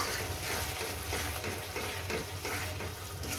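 Masala for a katla fish belly curry sautéing in oil in a pan: a continuous close, moderate sizzle with soft stirring textures throughout and no talking.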